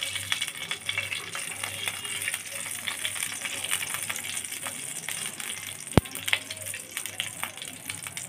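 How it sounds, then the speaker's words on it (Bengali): Dry chilli, bay leaf, cinnamon and cardamom frying in oil for aloo dum, a crackling sizzle with scattered pops and rattles and one sharp metallic knock partway through. "শুকনা লঙ্কা, তেজপাতা, দারচিনি, এলাচ দিয়ে মশলাটা আমি ভালোভাবে ভেজে নেব।"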